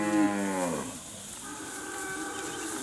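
Cattle at a livestock sale of Angus-sired steers and heifers give a loud, drawn-out moo that fades out, followed by a quieter lowing call from another animal, with no talking.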